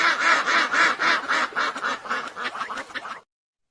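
Ducks quack in a steady rapid series of loud nasal calls, close and continuous for about three seconds before stopping abruptly, with no talking.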